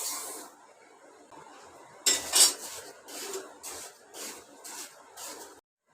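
A utensil scrapes roasted moong dal out of a pan in a home kitchen, making a run of soft metallic scrapes and clinks with one louder clatter early on, then a quick rhythmic series of strokes.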